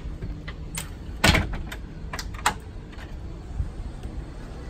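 A door on a Tiara Sport 34 LX boat slides and latches, with a sharp thud followed by several lighter clicks and knocks, close and without talk.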